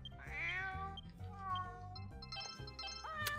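A cat meows repeatedly at close range, with drawn-out, harmonic-rich cries and a final sharp rise, over a low steady background hum from a Dragon Quest Swords game session.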